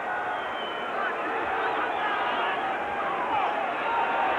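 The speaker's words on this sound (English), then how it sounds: "Sellout crowd at Giants Stadium has enjoyed things today" A sellout crowd at Giants Stadium during a Colts–Jets NFL football game rumbles in a dense, steady roar of chatter and noise throughout, with no single voice standing out.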